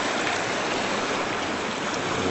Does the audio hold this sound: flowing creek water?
yes